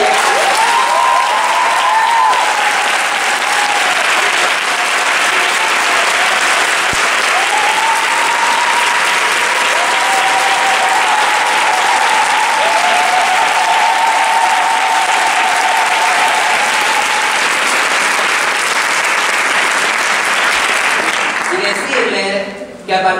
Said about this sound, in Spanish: quiero que le demos un fuerte aplauso a Solán y Victoria